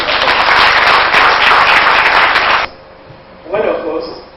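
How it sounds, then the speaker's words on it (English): Loud, dense audience applause at a 1992 International Women's Day event on empowering women, steady for about two and a half seconds and then cutting off, followed by quiet room noise and a brief rustle. "Please give him a round of applause."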